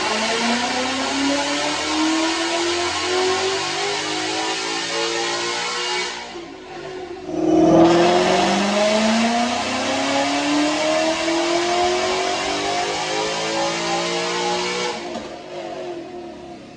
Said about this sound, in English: Let's make a couple dyno pulls.